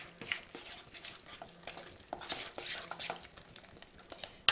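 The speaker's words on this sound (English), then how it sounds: "I'm going to stir this all up. You can see it's still pretty liquidy." Spoon stirring a liquidy whole wheat bread mixture in a bowl, soft wet sloshing with irregular scrapes and taps against the bowl, close and fairly quiet.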